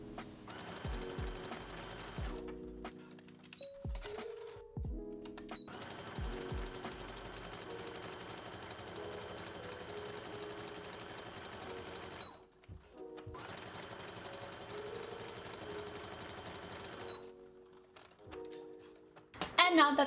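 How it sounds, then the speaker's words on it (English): A sewing machine stitches the bottom and side seams of a swimsuit in quiet, steady bursts of rapid needle clatter, separated by short pauses. "we're going to sew them across this bottom seam here and either of their side seams"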